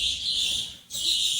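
Pet birds kept in numbered coops, one sitting on eggs, give a steady high chirping and twittering that runs almost throughout, dipping briefly near the middle before resuming at full strength.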